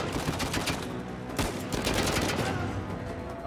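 Several gunshots in the video game Uncharted: A Thief's End pop in quick succession, loud and close, with one especially sharp crack partway through amid ongoing combat noise.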